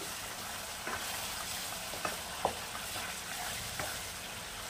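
Chicken for a green-chilli curry fries in a pan with a steady, close sizzle, broken by a few soft clicks and scrapes of stirring.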